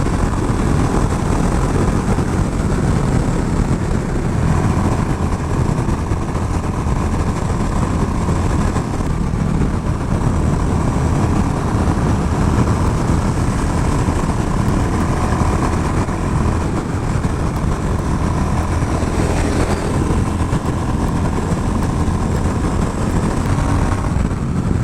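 A Royal Enfield Classic 350 Reborn motorcycle in fifth gear holds a loud, steady engine drone mixed with heavy wind rush, running continuously and evenly at speed.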